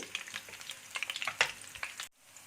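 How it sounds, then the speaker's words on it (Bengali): Chopped garlic sizzles and spits in a little hot oil for an egg drop soup, a steady close crackle with brief stirring scrapes, then cuts off abruptly near the end. "তারপর রসুন কুচিটা দিয়ে দেবো এখানে। এটা কিছুক্ষণ আমি ফ্রাই করব, 1 মিনিটের মতো।"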